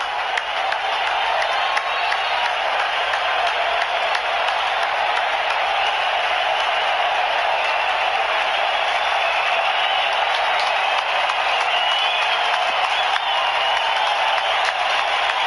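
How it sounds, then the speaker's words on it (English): A large baseball stadium crowd at a Red Sox–Yankees game roars steadily and loudly throughout, standing and building, a dense continuous wall of cheering and noise. "Crowd standing. You can hear it build."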